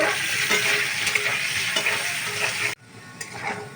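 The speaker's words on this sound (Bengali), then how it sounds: "অল্প হলুদ দিয়ে আলুগুলোকে ভালো করে ভেজে নেব" Potatoes fry with a little turmeric in a pan, giving a loud, steady close sizzle that cuts off abruptly near the end and drops to a quieter crackle.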